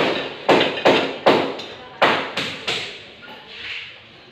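Hammer blows on wood during a village building project: seven sharp, close, loud strikes at an irregular pace, each ringing briefly and fading, the last ones softer, with no talk.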